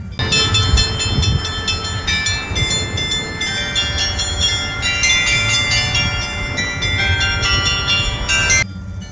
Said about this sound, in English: You can hear some music playing there on the bells.